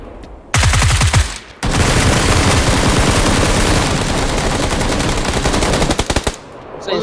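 Loud automatic gunfire in the battle-royale game PUBG Lite: a short burst, a brief pause, then nearly six seconds of rapid, dense shots fired without a break.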